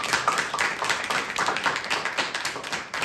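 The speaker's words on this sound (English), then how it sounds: "it's a great time to applaud again for these groups today." Audience members applaud a group of organizations including the Sons of the American Revolution at a simple ceremony: a modest room of people clapping steadily, individual hand claps audible, tapering off at the end.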